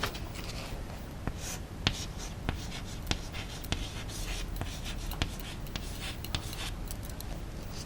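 A word is handwritten with a pen or marker in a primary English lesson, giving a close series of short scratchy strokes and taps in an irregular rhythm over a faint steady background hiss.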